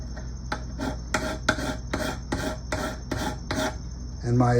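Hand file rasping on a workpiece for a penjing project, about eight evenly spaced close strokes with short pauses between, then a brief different scrape at the end; no talking.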